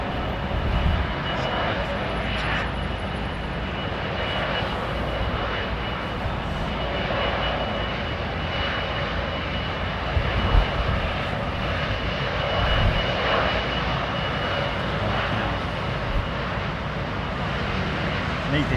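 Aircraft engines at London Heathrow Airport roar steadily and loudly throughout, a broad continuous rumble with slight surges, heard at close range with no break.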